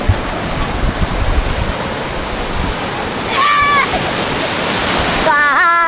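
Sea waves break and wash continuously on Khavne beach near Malvan, a loud steady roar of surf with a couple of short electronic chirps partway through.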